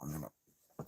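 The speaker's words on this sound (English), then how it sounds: "How's our doggy doing over there?" A dog whimpers close by in an indoor room, two short faint whines separated by a brief pause.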